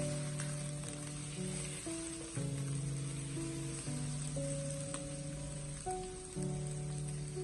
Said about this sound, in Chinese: 接下来把蒜苔也倒在锅中，再次翻炒均匀，充分的把蒜苔炒出香味。